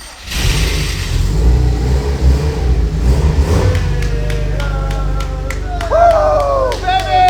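A car with an upgraded transmission, not started in a while, cranks and fires into a rumbling, revving engine, loud and close, while people cheer and talk over it.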